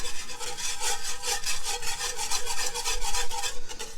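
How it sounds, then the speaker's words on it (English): Rapid rhythmic scraping as a utensil stirs cornstarch into a mixture in a bowl, strokes repeating steadily and close up, without speech. "I'm just going to mix that in for a bit."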